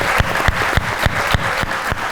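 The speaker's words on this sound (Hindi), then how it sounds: "बहुत सारी तालियां हो जाए।" Studio audience clapping on a talk show, heard as a steady sustained wash of applause with regular sharper claps through it, no voices over it.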